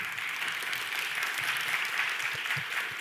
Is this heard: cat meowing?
no